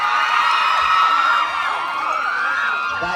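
A large crowd at a boxing match screams and cheers continuously, a dense high-pitched roar of many voices held without a break.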